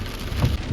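Heavy rain pours down steadily in a broad, dense hiss with low rumbling weight, close and loud throughout, no voices.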